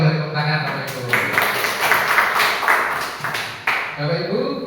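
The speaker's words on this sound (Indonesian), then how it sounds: "Oke, boleh tepuk tangan Bapak Ibu." A school audience of parents and teachers claps together in a short burst of scattered applause, with some talk before and after.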